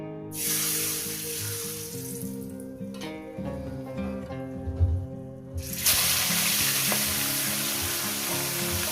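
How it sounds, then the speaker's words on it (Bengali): Fish slid gently into hot oil for a mustard-poppy seed curry, starting with a burst of loud, bright sizzling that quiets while pieces are placed and stirred, then swells again into a strong, steady frying hiss. "বন্ধুরা তেল আমার গরম হয়ে গেছে এবার এখানে মাছগুলো আস্তে আস্তে দিয়ে দেবো"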